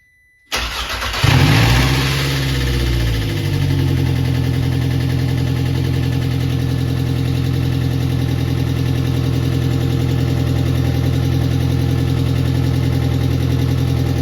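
An Audi 1.8T AWP engine swapped into an MK1 Rabbit pickup cranks, catches and settles into a steady, loud, close idle that holds unchanged to the end.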